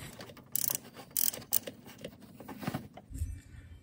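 A socket wrench ratchets a bolt on the pulley of a Toyota Tacoma's 3.4L V6 5VZ-FE engine, giving short bursts of close, quick metallic clicking with brief pauses between strokes.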